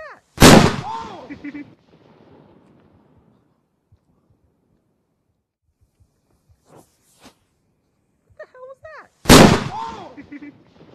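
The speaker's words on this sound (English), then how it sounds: "the explosion split the stone tablet into five separate pieces, actually blowing this piece completely back" Black powder charges detonate against a stone tablet, splitting it: two sharp, very loud close booms about nine seconds apart, each with a rumbling tail, and faint scattered thuds and small sounds in the quiet between.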